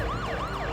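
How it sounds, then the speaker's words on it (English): A video game police car siren wails, sweeping up and down in steady cycles, loud and continuous, with a low engine rumble underneath. "Sirens on, and looks like we're going."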